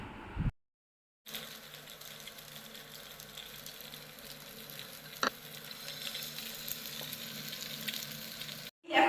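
Battered paneer pieces deep frying in hot oil, a steady, moderately quiet sizzling hiss that runs for several seconds, briefly cut to silence near the start, with one sharp clink midway.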